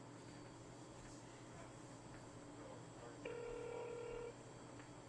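A telephone call rings without being answered. One steady electronic ring tone lasts about a second and sits faint over a hissy, humming background.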